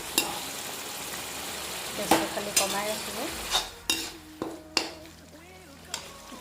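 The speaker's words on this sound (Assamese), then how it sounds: "এতিয়া আমি এইখিনি আকৌ 5 মিনিটমান ভাজি ল'ম।" Jackfruit seed curry mixture with red chili frying in a pan, a low sizzle broken by a series of sharp spoon-against-pan stirring scrapes and clinks, with brief speech.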